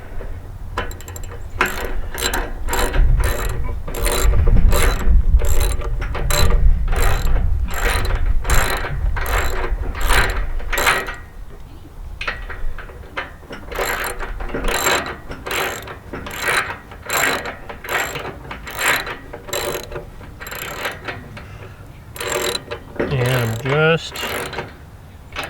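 Ratchet clicking steadily as bolts are tightened on a pontoon trailer, dense rapid pawl clicks in repeated bursts, close and loud, with low rumbling underneath early on.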